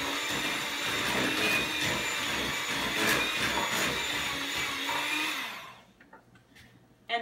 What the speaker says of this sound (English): You're going to mix in with the electric mixer as much as you can